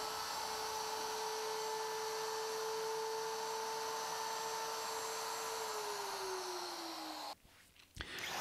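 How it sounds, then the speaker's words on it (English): A router cuts dadoes in wooden cabinet legs, giving a loud, steady high-pitched whine that holds for about seven seconds, dips slightly in pitch, then cuts off into brief clattering. "it's time to route a dado to accept the side panels"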